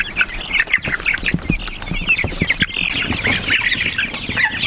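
Chickens on a farm clucking and squawking steadily and close by, with many overlapping calls and occasional sharp squawks, no talking.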